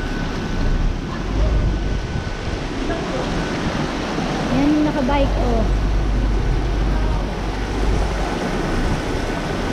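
Seawater floods over a coastal road at Pagudpud, Ilocos Norte, a loud continuous rush of surging water and surf mixed with wind noise, with a person talking over it.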